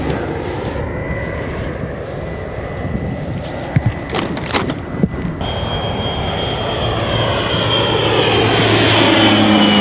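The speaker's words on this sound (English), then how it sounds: "It's got to be some sort of like surveillance plane, I think." A propeller surveillance airplane drones steadily nearby, its engine hum building louder as it passes, with a few scattered knocks and rustles in the foreground, heard from a sailboat.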